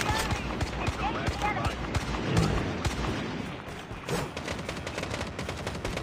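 Rapid gunfire crackles through a battle royale video game match, dense bursts of shots layered with game noise at steady loudness.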